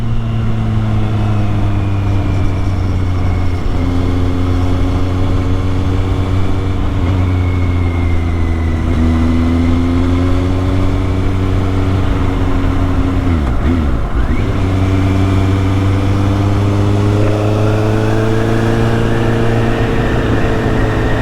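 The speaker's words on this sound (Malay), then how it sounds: "Motor ni ada bunyi." A Kawasaki Z800 motorcycle's engine runs continuously up close, holding a steady hum with gentle rises and dips in revs, and no talk over it.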